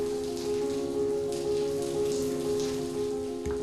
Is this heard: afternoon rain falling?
yes